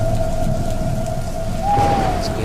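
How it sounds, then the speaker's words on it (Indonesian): Heavy rain pours in a dense, steady hiss with low thunder rumbling underneath, forming a continuous storm sound with no voices. "Karena hujan semakin lebat dan bercampur petir."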